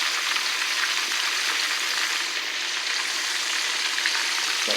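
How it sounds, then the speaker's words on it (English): Chicken drumettes without batter frying in oil on a stovetop, a dense, continuous sizzle, close and steady from start to finish with no voices. "I'm going to fry them done on the stove. On the stove top."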